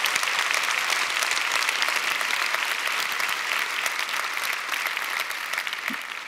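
A large crowd at a Swedish party congress claps steadily and continuously after a speech, a dense even applause that slowly fades a little toward the end.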